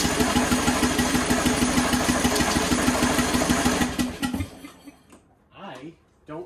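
A Craftsman LT1000 lawn tractor engine cranks with the choke on after a fresh battery, giving a steady rhythmic churning that runs for about four seconds and then stops, followed by a quiet voice.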